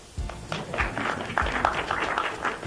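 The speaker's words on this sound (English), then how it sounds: "Now's a good time to clap." Audience clapping at a network marketing convention rally, a scattered burst of claps rising quickly and continuing steadily for a few seconds at moderate loudness.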